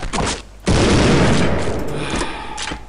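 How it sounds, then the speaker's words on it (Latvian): Loud twin-shell shotgun blast in the video game Postal 2, a sharp boom at the start followed by a second heavy report that rolls into a long, rumbling decay. "Šitas šauj pa 2 patronām uzreiz"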